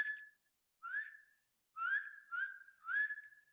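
Illinois chorus frog giving a series of five clear, rising whistled notes at about one-second spacing, each a short upswept peep, heard close and alone without talk.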